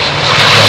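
Propeller airliner engine roaring in reverse pitch on a landing rollout, a steady, loud broadband drone with no pauses.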